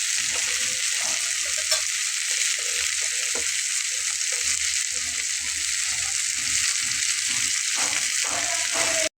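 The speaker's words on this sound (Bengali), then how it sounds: "আমার মাছটা কিন্তু ভেজে নেওয়া হয়ে গেছে" Fish fries in hot oil with a dense, continuous close-up sizzle, punctuated by frequent scrapes and taps of a spatula moving it around the pan.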